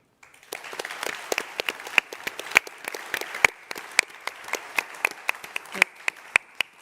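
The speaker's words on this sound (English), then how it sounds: "So now, with a huge applause," A small crowd at an IFA 2025 press conference claps steadily, sharp individual claps spread across several seconds, moderately near, with no talking.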